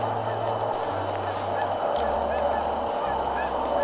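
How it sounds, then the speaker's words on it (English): Geese honking in the open during a goose hunt, repeated nasal calls scattered over a steady outdoor rumble with a low hum underneath. "See the goose jump on that flag?"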